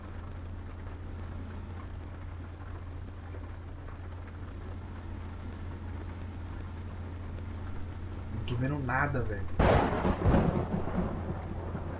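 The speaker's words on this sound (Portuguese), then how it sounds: "para a chuva aí pra nós fazer a viagem de boa" Steady rain drums inside a truck cab in Euro Truck Simulator 2 under a low engine drone, while someone talks over it; near the end a sudden loud crash like thunder or a passing vehicle breaks in.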